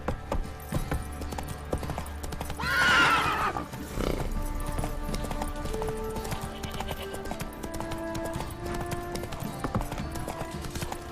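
Geralt's horse Roach in The Witcher 3 gives a loud, close whinny over steady clip-clopping hooves, then keeps trotting on under a quieter game backdrop.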